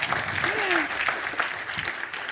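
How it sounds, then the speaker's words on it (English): Audience applause at a science communication competition semi-final, a steady crowd of clapping with a voice briefly audible over it partway through. "encouraging applause, please, as well?"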